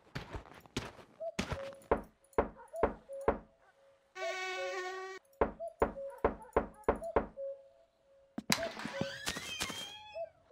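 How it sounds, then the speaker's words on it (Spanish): Knocking on a door in the video game My Summer Car: several rounds of sharp, close knocks in quick clusters, broken by a brief steady electronic tone partway through. "A ver si llamo a la puerta."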